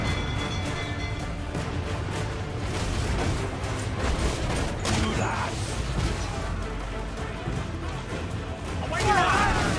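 Dense, chaotic naval battle noise from the video game Assassin's Creed IV: Black Flag, with heavy booms and crashes of ship cannons firing layered over shouting voices, rumbling continuously throughout.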